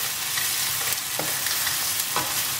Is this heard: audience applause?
no